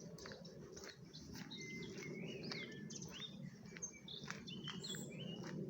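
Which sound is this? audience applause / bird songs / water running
bird songs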